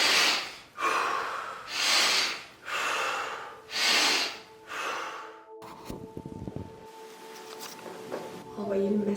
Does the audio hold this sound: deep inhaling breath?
yes